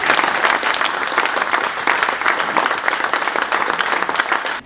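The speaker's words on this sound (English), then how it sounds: "deserves a round of applause" Warm applause from an audience at an evening charity presentation, dense clapping from many hands sustained at steady volume for several seconds before tapering at the end.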